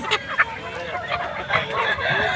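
Roosters at a Nallapadu rooster market cluck in several short bursts, close by, against a busy background of other birds and crowd murmur.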